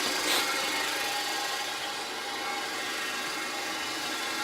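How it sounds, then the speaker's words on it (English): The motor of a plastic extruder turns continuously, giving a steady, even whirring drone with no breaks or talk over the full span. "So this motor, while it is rotating, it is pushing it out."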